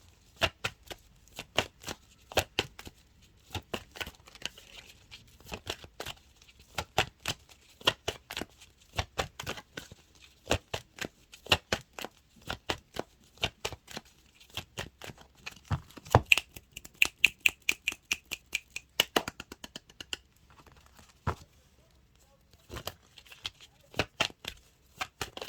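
Tarot cards being shuffled by hand in a quiet room, a long run of crisp riffling flutters and soft taps in uneven bursts, close and fairly faint.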